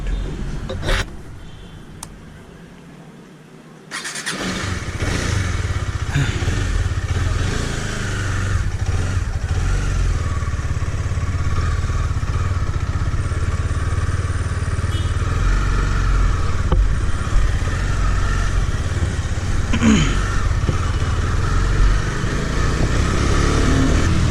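A motorcycle with an upgraded 320mm front disc rides through city traffic, its engine droning steadily and close throughout after a brief quieter start, with traffic noise around it.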